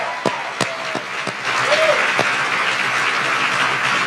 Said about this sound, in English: let's first begin with a big round of applause